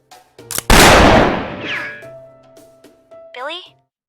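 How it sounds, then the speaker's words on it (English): Gunfire in the Fate/Grand Order video game: one loud close shot cracks and rings out, decaying over about a second, with a few shorter bangs around it and a brief voice near the end. "my gunshots sure make a hell of a lot of noise here"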